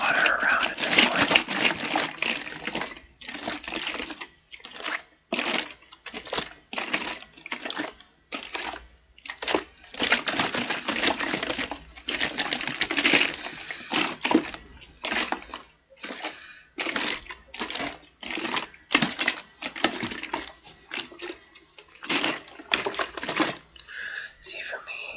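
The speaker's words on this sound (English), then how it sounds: "Just gonna slosh some water around at this point." Water sloshed around in bursts, a string of close, uneven splashy washes separated by short quiet gaps, soft and intimate with no speech over it.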